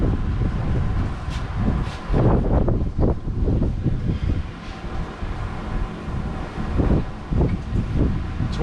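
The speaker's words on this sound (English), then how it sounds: "Fucking wind." Strong wind buffeting the microphone outdoors during an intercooler install on a rally Toyota build, a steady loud rumbling roar with gusty surges throughout.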